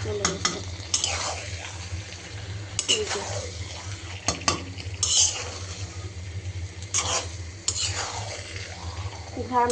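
Mixed vegetables frying in oil for a vegetarian dish, with steady sizzling under repeated clinks and scrapes of a utensil stirring against the pot, close and continuous throughout.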